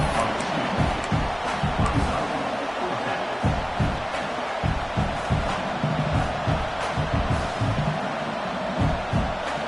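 The stadium crowd in a football sim video game roars continuously, a loud, dense wall of cheering and chanting that pulses in swells, with no commentary over it.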